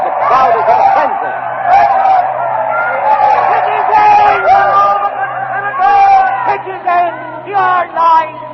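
A frenzied crowd shouts and bellows in a 1949 radio drama of Caesar's assassination in Rome. Voices surge and overlap in a narrow, old-broadcast sound, with louder outbursts toward the end.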